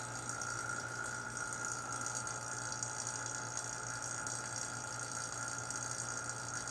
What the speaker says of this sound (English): we're almost to the limit of what this vacuum pump can actually do. Let's just keep pumping.